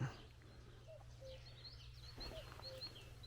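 A cuckoo calls faintly in the distance outdoors, with short repeated notes over a low steady hum and other bird chirps.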